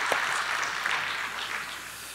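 A large church congregation at a Sunday service claps together in a full, sustained burst of applause that fills the room without a break.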